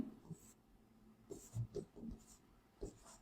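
A pen writes out a calculus problem in quiet, separate scratchy strokes, close and faint, with short pauses between bursts and no speech over it.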